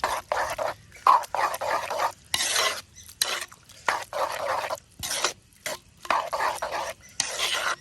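Dried chillies and curry leaves are stirred in a frying pan, sharp scraping strokes repeating in quick bursts with short gaps, close and loud over a faint sizzle.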